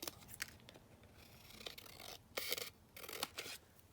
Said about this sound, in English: So let's just cut this down.